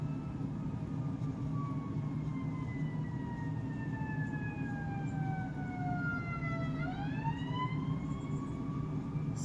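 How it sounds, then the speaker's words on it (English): Emergency vehicle sirens wail outside, steady rising and falling tones that shift pitch as the vehicles pass, heard at a distance over a constant low rumble of traffic. "Second time in this reading, we're hearing sirens."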